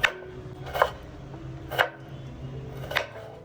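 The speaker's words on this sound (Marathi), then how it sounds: "टमाटर कापायचे राहिले ते आपण आता कापून घेतोय" Tomatoes being finely chopped with a knife on a board: four distinct, crisp knife strokes spaced roughly a second apart, close and clear against a quiet kitchen background.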